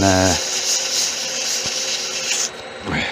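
Sandpaper rubs steadily against a spinning wooden pen blank on a lathe, worked down toward the bushing, a loud continuous abrasive hiss over the whine of the turning machine, which winds down and restarts near the end.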